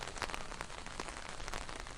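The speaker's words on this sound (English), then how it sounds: "The rain became heavier that afternoon, accompanied by the rolling thunder now and then." Steady rain falls on a surface in the visual novel game Seduce Me, a dense, continuous patter with scattered louder drops. It holds at an even level throughout with no voices.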